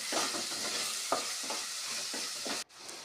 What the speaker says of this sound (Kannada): ಎಲ್ಲ ಮಸಾಲೆ ಕಾಳಿಗೆ ಎಲ್ಲ ಚೆನ್ನಾಗಿ ಮಿಕ್ಸ್ ಆಗಬೇಕ್ರಿ